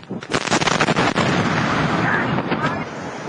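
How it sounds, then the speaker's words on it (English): A massive explosion at a fertilizer plant near the town of West, heard as a loud, booming blast with crackling bursts and a long rumbling roar that slowly fades. "A massive explosion at a fertilizer plant near the town of West."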